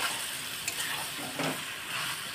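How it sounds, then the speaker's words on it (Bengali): Soft sizzling and stirring of drumstick curry with red potato and pumpkin in a pan, faint and steady with a couple of brief scraping strokes, no voices. "এবারে এর মধ্যে এখানে আমি অল্প সামান্য কষাবো, বেশি কষাবো না"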